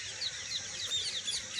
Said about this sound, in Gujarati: પક્ષીઓ કેવો મસ્ત બોલે છે બધા.